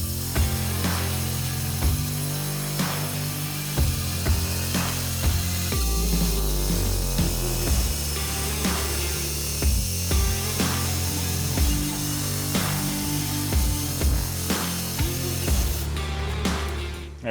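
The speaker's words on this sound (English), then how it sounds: "let's go ahead and notch this tube" A tube notcher cuts a fishmouth into a metal tube for the independent rear suspension of a 1964 ERA Cobra, giving steady, loud grinding and rasping with repeated sharp clanks, close up and with no talk.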